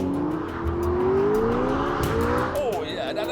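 McLaren 12C Spider pulling hard out of a corner on a race track, a loud close engine note climbing steadily in pitch with a brief tyre squeal near the end.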